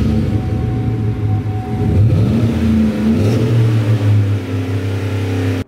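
Pickup truck with an Airaid intake tube and MagnaFlow exhaust revving up, a close, loud rumbling engine rising in pitch and settling back, no talk.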